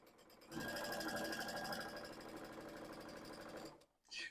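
A sewing machine runs fast and steadily while stitching half square triangle quilt pieces for about three seconds, then stops.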